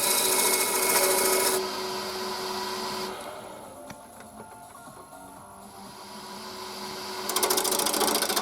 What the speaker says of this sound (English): I'm just hogging out a lot of the material to get the shape I want using the roughing gouge